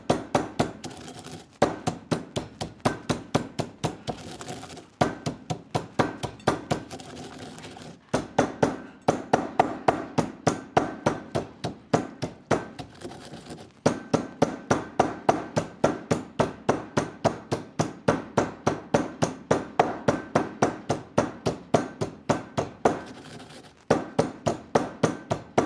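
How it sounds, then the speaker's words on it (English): A mortar and pestle pounds black pepper and wild fennel into a rub for tuna, giving rapid rhythmic hard knocks and grinding strikes, loud and close, running steadily with brief pauses. "Why do we do it in a mortar and pestle? Because we want it freshly ground."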